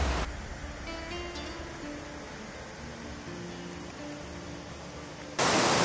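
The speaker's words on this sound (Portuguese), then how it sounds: "a gente está escutando barulho forte de cachoeira" Broad, steady roar of heavy water where a river forks, a dense hiss that holds level throughout and jumps louder right at the end.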